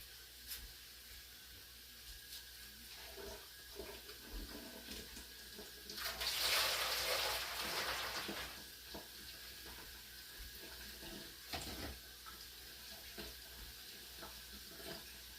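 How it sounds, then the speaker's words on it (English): Water is poured into the water bath pan around a New York style cheesecake, a brief splashing gush of about two seconds midway through an otherwise quiet stretch of faint kitchen handling noises. "then I will put more water in it if I need to"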